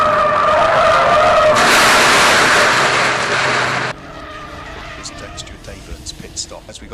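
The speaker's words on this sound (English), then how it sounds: "we got one off and into the gravel, I'm afraid, at Copse" At Silverstone's Copse corner, a race car skids off into the gravel trap with a loud, harsh tire-scrubbing roar that cuts off abruptly, leaving quieter distant track noise. A commentator's voice talks over it.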